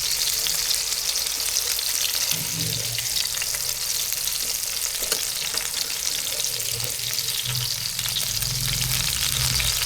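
Small shrimp vadas sizzle and fry steadily in oil in a pan over a medium gas flame, a dense continuous crackle with occasional stirring, no talking.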